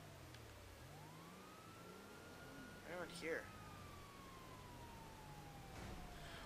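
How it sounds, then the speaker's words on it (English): Police and fire truck sirens in the GTA V video game, faint wailing tones sweeping slowly in the distance under steady background noise, with a brief louder burst midway as a voice speaks. "I hear sirens."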